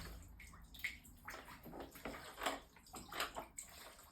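Water draining and splashing out of the hollow stock of a Henry US survival rifle after a float test, irregular gurgling spurts and drips, close up with no talking.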